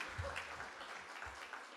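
Congregation applauding during a church worship service, a short burst of steady clapping in a reverberant room, fairly soft, with a brief murmur underneath.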